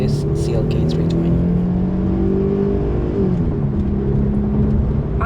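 A Mercedes CLK320 coupe accelerates hard from 0 to 100. The engine drone stays loud and steady while its pitch rises and drops through the gear changes.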